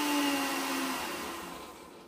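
A kitchen blender whirs at high speed while blending a creamy, silky sauce, a steady loud motor roar that slowly fades and winds down over a couple of seconds.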